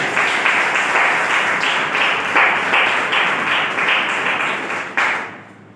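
An indoor audience applauds for Sanjeev Gupta at a gathering, a dense, steady burst of many hands clapping loudly for about five seconds before fading out.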